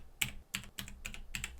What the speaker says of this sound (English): and if I start typing